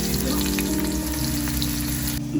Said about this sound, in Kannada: ನಾವು ಎಣ್ಣೆಯಲ್ಲಿ ಈರುಳ್ಳಿ ಹಾಕ್ಬಿಟ್ಟು ಚೆನ್ನಾಗಿ ರೋಸ್ಟ್ ಮಾಡ್ಕೊಳ್ಳಿ.